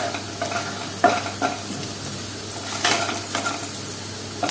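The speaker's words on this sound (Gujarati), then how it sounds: "ડુંગળીને આપણે થોડી ફ્રાય થવા દઈએ" Onions sizzle and fry in a pan while being cooked for colocasia leaf curry, a steady crackling hiss with a few louder stirring scrapes and clinks throughout.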